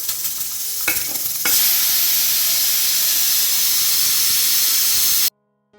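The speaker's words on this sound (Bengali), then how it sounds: "প্রেসার কুকারের ঢাকনটা আটকে দিয়েছি, আর এখন সিটি হলেই হয়" A pressure cooker of Gobindobhog rice khichuri lets out a loud, steady rush of hissing steam that starts abruptly after a short quieter stretch, holds for several seconds, then cuts off sharply into silence.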